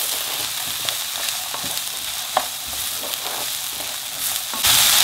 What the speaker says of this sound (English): we're going to saute this for at least 3 minutes